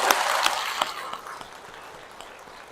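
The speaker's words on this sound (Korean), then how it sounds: "여기 오신 남성분들 위해서 특별히 박수 한번 쳐주시겠어요?" A church congregation at Bansong-dong parish claps for the men attending: a burst of many hands that starts full and gradually thins and fades over a few seconds, with no talk.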